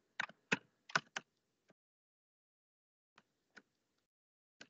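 Typing on a computer keyboard: a quick burst of several close, crisp keystrokes, then a few isolated taps spaced out over the following seconds, with no talking.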